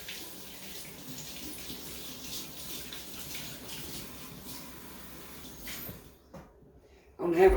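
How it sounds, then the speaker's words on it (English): A kitchen tap runs at close range while a finger is washed, a soft steady stream that stops near the end before a brief clatter, with speech faintly present. "I'm gonna wash my finger off here."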